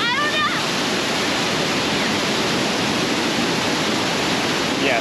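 Loud, steady rush of fast-running water fills the whole stretch in Hetch Hetchy Valley, Yosemite, a constant broadband roar near at hand with no breaks.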